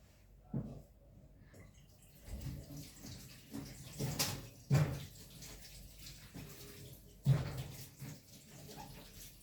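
A watermelon is washed under running water, with faint splashing and a few louder irregular splashes and knocks as it is handled, at close range and very quiet overall.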